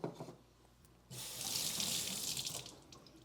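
Tap water running into a sink while brewing beer, a quiet start with faint clatter before the faucet opens into a steady, hissing stream that continues to the end.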